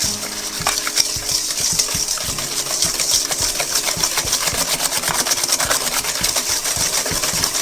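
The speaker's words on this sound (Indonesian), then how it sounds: "Aduk sampai gulanya larut ya." Eggs and sugar whisked by hand in a bowl for a black sticky rice tape chiffon cake batter: a steady, rapid metallic clinking continues close up throughout, with no talking.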